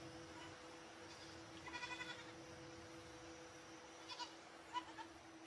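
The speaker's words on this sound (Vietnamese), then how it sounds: "Là tiếng dê" Goats kept by Karen farmers bleat faintly in the distance, a few wavering calls spread across a steady background hum.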